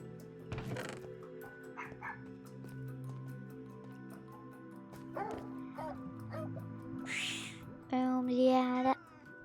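A Pomeranian dog in the video game Minecraft yips and whimpers in short, soft bursts, mixed with steady electronic game tones and a louder tonal chime near the end.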